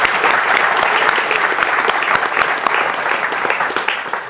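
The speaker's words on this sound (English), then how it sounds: "everybody give him a round of applause" An audience gives a loud, steady round of applause at a real estate event, with continuous dense clapping throughout and no talk over it.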